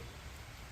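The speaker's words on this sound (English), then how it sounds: "Sounds like it's raining." Rain falls outside a work site at a historic house, a brief steady hiss of drops with a low rumble underneath.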